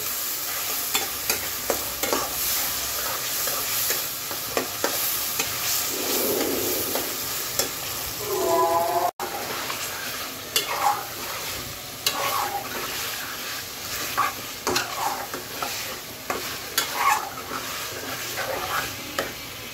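Chicken pieces lightly frying with garlic paste and sour yogurt sizzle steadily in a pan, with repeated scraping stirs of a spoon throughout and a brief break midway, close and moderately loud.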